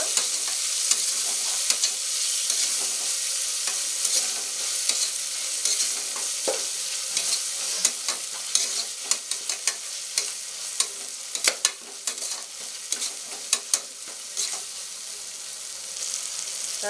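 Vegetables with tomato, green chilli and coriander sauté for vegetable biryani, a constant close sizzle with frequent sharp scrapes and taps from stirring that grow busier toward the end, with no talk.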